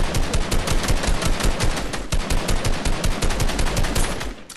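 Rapid automatic gunfire in a video game rattles in continuous, closely spaced bursts. The shots are loud and near, and they carry on without a break for the whole stretch with no talk over them.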